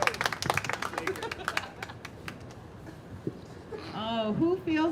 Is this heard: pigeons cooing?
no